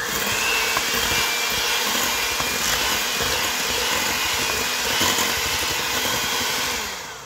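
An electric mixer beating German chocolate cake batter, a loud, steady motor whir that runs close and continuous for several seconds before easing off at the very end.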